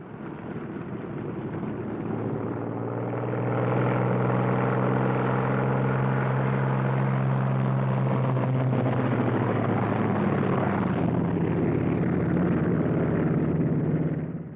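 World War II P-47 Thunderbolt fighter-bombers taxi out in a pair on an airfield in Italy, a steady loud radial engine drone with low rumbling tones that swells after a few seconds and holds, with no voices.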